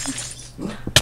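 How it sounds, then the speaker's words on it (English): Ice block breaking in Minecraft, a single short crisp shatter near the end after a quieter lead-in. "Break the ice."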